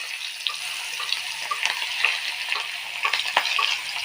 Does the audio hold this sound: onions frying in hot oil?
yes